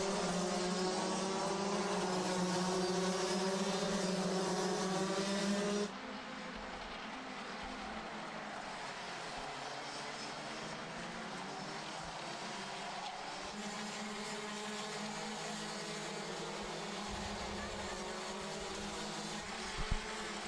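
Racing karts at the Genk circuit during an RMC Belgium final, a continuous buzzing engine drone that drops in pitch and level partway through as the karts pass and move away, steady and fairly distant.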